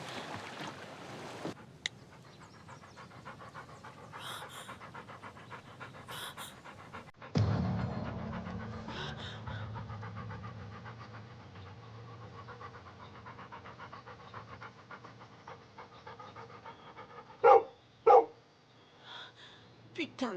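A cartoon dog pants rapidly and steadily in the foreground for most of the stretch, then gives a couple of louder, abrupt bursts near the end.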